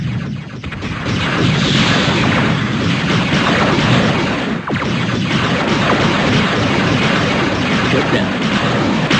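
Dense rumbling battle noise from the Dark Reign real-time strategy game, Community Patch 1.8.2, in instant action, with continuous booms and crashes of explosions and weapon fire, loud and sustained throughout.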